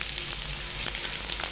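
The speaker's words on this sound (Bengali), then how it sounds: "এখানে আমার মাছ ভাজা হচ্ছে" Pangas fish sizzles in a frying pan with a continuous, close hiss of hot oil and small pops throughout.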